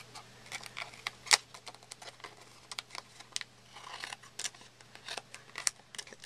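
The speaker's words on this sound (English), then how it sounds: "I've got this extra, so I'm going to cut that off real quick." Scissors snipping off excess paper while making background paper, a quick series of small crisp cuts with faint crinkling, close and quiet over a low steady hum.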